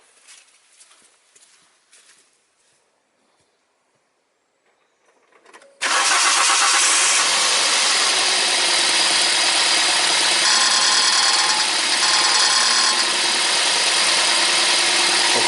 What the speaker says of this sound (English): now I start this my engine